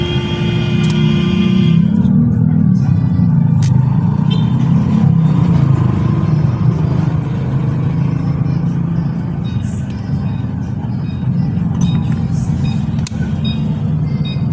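A vehicle engine catches and settles into a loud, steady rumbling idle that continues to the end, with a few faint clicks over it and occasional voices nearby.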